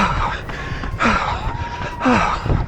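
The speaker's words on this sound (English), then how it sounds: "Listen to that breathing." A runner's heavy, ragged breaths come in quick gasps and sighs during a race, close and strained, with a voice murmuring underneath.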